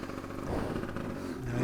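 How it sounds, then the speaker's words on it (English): A dirt motorbike engine runs steadily at low revs while the rider uses it to walk the rear of the bike across a creek, a continuous mid-pitched drone with slight surges, fairly close and without talk. "Now I use the motor here to try to walk the back of the bike across."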